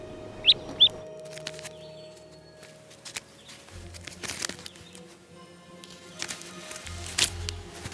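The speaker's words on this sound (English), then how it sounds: "Mom calls her brood together." A mother bird calls her brood together with two short, high chirps near the start, then soft rustling, footsteps and scattered faint calls from the moving family outdoors.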